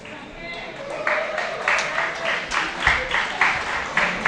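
A round of applause for an award winner at a horticulture conclave valedictory ceremony at NAU Navsari, scattered clapping building up from soft to a moderate, uneven patter in a hall.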